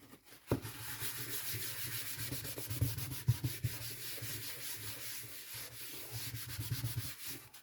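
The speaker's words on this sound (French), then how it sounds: "Je vais quand même nettoyer mon plan de travail." Cloth wiping and rubbing across a craft work surface, a continuous close scrubbing swish with brief bumps and no speech.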